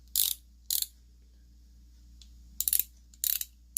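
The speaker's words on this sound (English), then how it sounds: "Ratcheting mechanism on this one is a lot noisier." A Harbor Freight Pittsburgh Pro pass-through ratchet gives five short bursts of loud, rapid clicking close by, with pauses between them and a faint low hum underneath.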